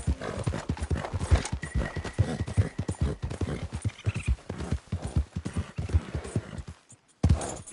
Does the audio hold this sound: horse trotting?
yes